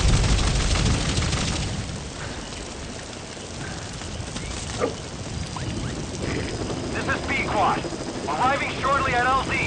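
A support helicopter arriving in Metal Gear Solid V: The Phantom Pain, a low rotor rumble building beneath game radio chatter and effects, with a rising whine and chirping tones toward the end.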